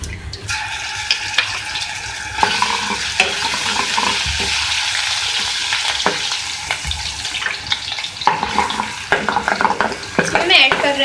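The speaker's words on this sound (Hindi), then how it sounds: "मैं इसी ऑयल के अंदर ऐड करूँगी अदरक लहसुन का पेस्ट" Ginger garlic paste frying in hot oil in a pan while cooking arvi karahi, a steady loud sizzle with stirring scrapes and bursts throughout, no voices.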